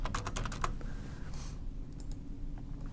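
Quick clicks from a computer keyboard as a zip code is typed into a form in an office, a short burst of keystrokes that soon fades to quiet room tone.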